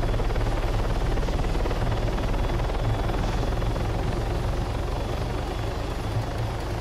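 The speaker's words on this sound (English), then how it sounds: "using the air tracker and flying the chopper now makes it so much easier" Simulated helicopter in a flight simulator game, a steady continuous rotor and engine drone with a low rhythmic thump, loud and unbroken throughout with no talking.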